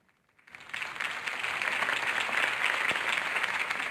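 Crowd applause from a Batman video game following a campaign speech for Harvey Dent, building up out of near silence after half a second into steady, dense clapping that continues loudly to the end.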